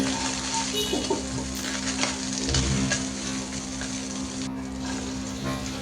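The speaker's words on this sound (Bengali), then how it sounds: "ট্যাংরা মাছ ও গুলশা মাছগুলো ভেজে নিচ্ছি" Tengra and gulsha fish fry in hot oil, giving a steady, dense sizzle with a few soft stirring scrapes, close and continuous throughout with no talking.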